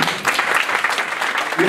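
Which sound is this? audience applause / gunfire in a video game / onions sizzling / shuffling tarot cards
audience applause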